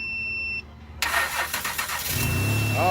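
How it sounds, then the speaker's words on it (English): A car engine cranks and starts after a battery replacement at home, starting abruptly after a brief beep and then running loud and rough nearby, with no talk over it. "my neighbor's gonna start the car"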